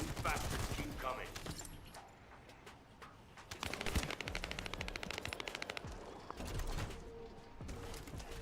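Video game gunfire in a hectic fight, dense rapid automatic bursts and scattered single shots over a busy mix of effects, with a brief lull before a long sustained machine-gun stretch resumes.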